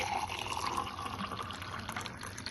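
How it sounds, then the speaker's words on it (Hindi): Hot water poured from one container into another, a steady liquid splash and trickle running continuously and fairly close, with no talk over it. "चलो अब ये पानी गर्म हो चुका है, अब मैं इसको करती हूँ ट्रांसफ़र इसमें।"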